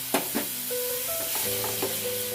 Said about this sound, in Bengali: আমি এটা জলের মধ্যে গুলে নিয়ে এখানে ছেড়ে দিচ্ছি